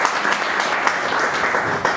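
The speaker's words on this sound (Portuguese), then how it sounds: "Vamos receber ela com uma salva de palmas." Crowd applause welcoming a guest speaker, the president of a Fabry disease association, at a lecture; dense steady clapping from many hands, loud and close, filling the whole moment.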